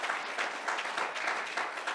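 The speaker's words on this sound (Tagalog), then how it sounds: "give a hand to the Lord that is full of hope" A church congregation applauds during a sermon, a dense, steady wash of many hands clapping at once that holds for the full moment without pause.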